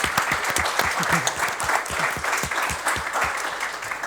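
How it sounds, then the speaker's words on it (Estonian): Applause after a panel discussion at a government cloud information day: steady dense clapping from an audience, continuous and fairly close, with no speech over it. "suur aplaus"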